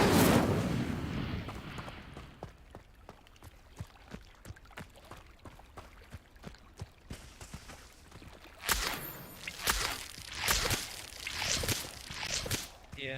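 A fire spell is cast in the Hogwarts Legacy video game: a whooshing fiery burst opens, followed by a long run of rapid, even crackling pulses and then several louder, rolling flame bursts.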